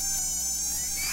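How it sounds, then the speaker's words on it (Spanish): A dengue-transmitting mosquito buzzes in a steady, thin, high-pitched whine, close and continuous throughout. "El mosquito transmisor del dengue vive en recipientes que contienen agua."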